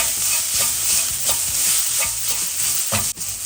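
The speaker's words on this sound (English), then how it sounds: "Let's give that a good mix. Make sure the spices won't burn." Spices mixed with chaat masala are stirred in a hot pan, giving a steady loud sizzle with rhythmic scraping strokes, and a sharp clack near the end.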